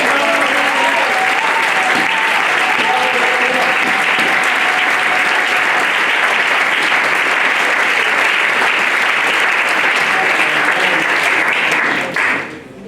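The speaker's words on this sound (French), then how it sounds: "Est-ce qu'on peut applaudir pour le Seigneur?" A church congregation claps loudly and steadily for the Lord, a dense sustained patter with a few shouted voices and tones riding on top early on, then fading abruptly at the end.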